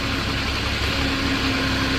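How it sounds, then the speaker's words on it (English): Engine of a 2015 Moffett M8 55.3 truck-mounted forklift running at a steady idle, a loud, close, even drone with a constant hum and no change in pace. "There's your engine coming to life."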